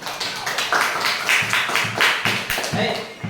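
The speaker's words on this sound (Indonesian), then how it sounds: "tepuk tangan dulu" A group of people clapping together in a classroom teaching session, a fairly close, brisk run of repeated claps with a loosely shared rhythm throughout.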